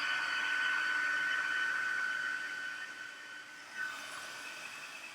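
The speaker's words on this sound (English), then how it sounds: "it's going to get loud here with the heat gun" Steady, loud whir of a heat gun melting embossing powder on a handmade card, a continuous blowing hiss with a high whine that eases slightly toward the end, no talking.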